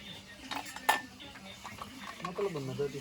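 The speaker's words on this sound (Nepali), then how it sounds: "हामी चाहिँ भाँडा मस्काउँदै है" Dishes, pots and utensils being scrubbed in a village setting. Faint clinks and scraping of metal pans sound close by, with a person speaking softly in between.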